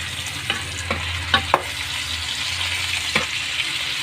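Tomatoes frying in a pan for Ilocano pinakbet give off a steady sizzle, and a spoon strikes and scrapes the pan every so often as they are stirred. The sound is close, with no voices.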